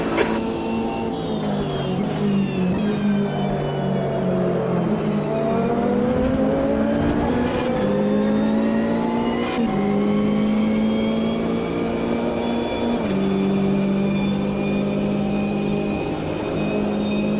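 Several race car engines in the Automobilista 2 sim racing game drone and rev continuously with shifting pitch, gear changes and the whine of nearby cars in a pack, loud and steady throughout.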